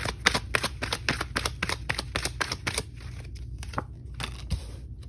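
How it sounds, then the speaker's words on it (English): Tarot cards are riffled and shuffled in quick repeated bursts, a dense run of crisp flicks up close that thins into a few scattered slaps toward the end. "just gonna give this a quick shuffle"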